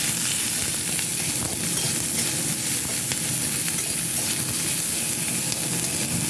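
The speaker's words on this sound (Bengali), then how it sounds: "এবার ক্যাপসিকাম, পেঁয়াজ আর কাঁচা লঙ্কাটা একসঙ্গে দিয়ে দিলাম।" Capsicum, onion and green chilli stir-fry in a pan with already fried ginger and garlic, giving a loud, continuous sizzle with scraping stirs and no talking.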